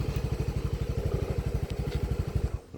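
A Yamaha Freego keyless scooter engine idles close by with a fast, even putter, then cuts out near the end.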